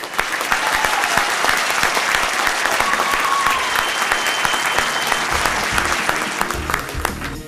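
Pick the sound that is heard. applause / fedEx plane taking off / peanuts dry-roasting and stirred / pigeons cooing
applause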